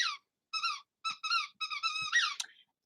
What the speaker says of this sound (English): that squeaky toy's got to go goodbye